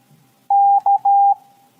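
A single steady tone beeps in a short Morse code pattern, a longer beep, a brief one, then another longer beep, clean and loud against near silence.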